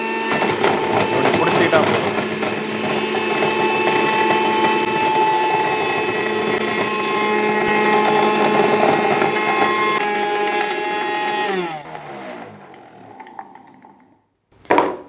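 A multi-juicer juicing whole gooseberries whirs loudly with a steady, high motor drone and a gritty grinding, then winds down and stops near the end before a short clatter, with a voice talking over it.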